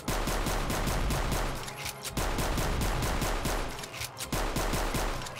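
Rapid, relentless automatic gunfire in the shooter Wolfenstein/Doom Blade of Agony, dense bursts of loud, evenly spaced shots with brief breaks between volleys, close and dominant throughout.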